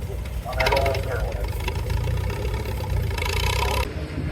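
A 1948 Farmall tractor at an antique tractor pull runs with a steady low engine rumble, surging loudly at moments under an announcer's voice over a public address system.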